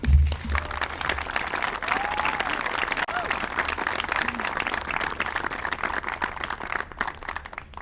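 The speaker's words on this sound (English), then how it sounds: "So let's give them a round of applause on the way up." A graduation audience for the class of 2020 claps steadily as the valedictorian and salutatorian walk up, a dense, sustained roll of applause from a large crowd, fairly close and continuous with no talking over it.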